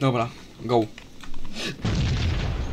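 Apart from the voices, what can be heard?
explosion from a molotov in Max Payne video game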